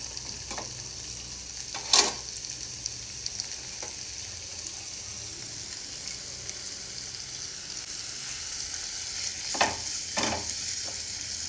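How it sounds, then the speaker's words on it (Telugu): Spinach stems frying in hot oil in a pan, a steady close sizzle throughout with a few louder crackles and stirring clinks. "ఇందులో ఫస్ట్ నూనె కాగింది. ఫస్ట్ పాలకూర కాడలు,"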